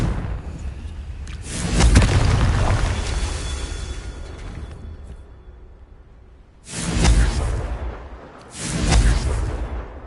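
A Confringo explosive spell in Hogwarts Legacy fires off as loud whooshing booms, three heavy surges spaced a few seconds apart with rumbling tails, alone without talk.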